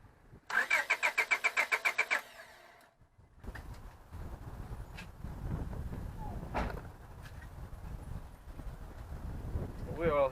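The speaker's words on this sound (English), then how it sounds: "Let me start the car up." A car engine is cranked after a distributor repair: a rapid burst of starter whirs, a pause, then the engine catches and idles with a steady low rumble up close.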